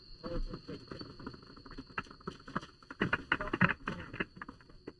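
Calving glacier ice crackles and pops in dense, irregular bursts close by, growing busier midway, with a thin steady whine running underneath.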